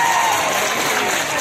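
Crowd at a congressman's community meeting applauding in a brief, dense wash of clapping, with an amplified voice carrying over it.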